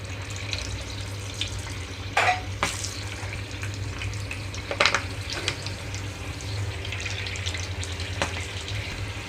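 Balls of sweet corn and onion pakodi batter drop into hot oil for deep frying, making a constant bubbling hiss with a few brief louder splashes and crackles as pieces go in, nearby and with no talking.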